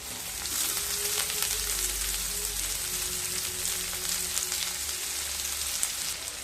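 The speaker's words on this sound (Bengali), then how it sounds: "রসুন হালকা ভাজা হয়ে গেলে এবার দিয়ে দেব একটা কুচিয়ে রাখা বড় সাইজের পেঁয়াজ" A large chopped onion and garlic fry in a pan with a steady, close, continuous sizzle and crackle, no voices.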